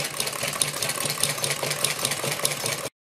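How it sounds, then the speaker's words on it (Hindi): A sewing machine stitches steadily along the edge of a net neckline, a close, continuous rapid whirr of needle strokes lasting about three seconds before cutting off. "इसके बाद हम गले के किनारे किनारे पर एक सिलाई लगा लेंगे।"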